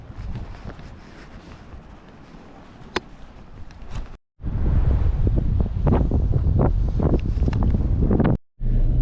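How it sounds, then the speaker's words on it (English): Strong, gusty wind buffets the microphone beside a lake in the Eastern Sierra, a loud, rumbling roar that surges and cuts out briefly twice, with no talking. "I have just about had it with the wind."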